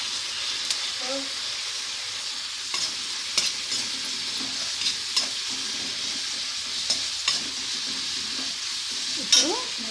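Spoon stirring coriander powder into a pan of cooking drumstick leaves rice, with a steady background sizzle and scattered scraping clinks of the utensil against the pan, close and moderately loud.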